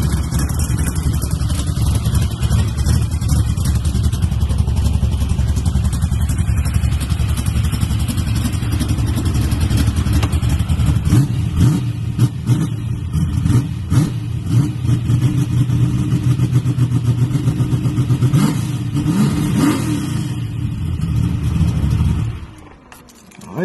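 A tuned car engine roars loud and close, revving with a rough, clattery rumble for more than twenty seconds before the sound cuts off abruptly at the end.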